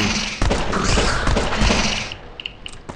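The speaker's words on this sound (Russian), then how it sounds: "Нужно сделать два выстрела по нему." Video game gunfire crackles in a dense burst of loud shots and thumps, then a few sharp, lighter clicks follow as the noise dies away.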